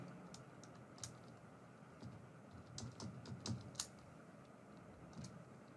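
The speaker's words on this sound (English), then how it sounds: "So here let me type" Rapid keystrokes on a computer keyboard, a quiet run of soft clicks in short bursts with small pauses, heard alone at low level in an indoor room.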